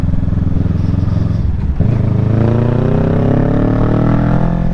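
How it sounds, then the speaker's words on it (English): A Kawasaki Ninja 650 motorcycle engine drones loudly and steadily while riding up a mountain road, its pitch climbing smoothly as the rider accelerates after a brief dip in revs, with no talking. "This bike sounds beautiful up these mountains."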